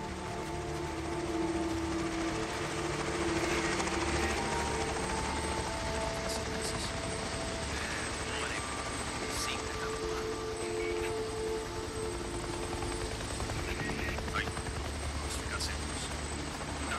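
A helicopter in the video game Days Gone drones with a continuous mechanical whine and rotor hum. The sound stays fairly loud and steady throughout, with a few faint clicks and tonal shifts over it.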